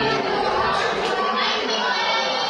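Audience applause at an Indonesian competition event in Central Sulawesi, a dense steady wash of clapping from a crowd with some chatter and shouts mixed in, continuous and loud throughout.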